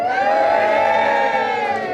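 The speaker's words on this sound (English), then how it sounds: "was going to put the cheer in brackets" Wedding guests cheer and whoop together in a loud, sustained burst that fills the room, a dense crowd roar with no single voice standing out.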